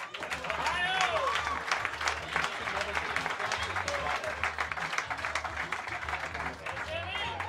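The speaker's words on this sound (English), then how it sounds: "Clap your hands" Crowd at a comedy roast battle applauding and cheering as a comedian comes to the stage, a dense continuous wash of clapping with voices shouting over it.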